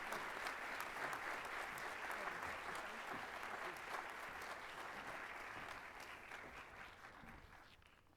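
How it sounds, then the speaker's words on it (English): An audience at a university State of the University event applauds in a steady wash of clapping that slowly fades toward the end. "Let's give a round of applause to Jack Heflin, Professor of English,"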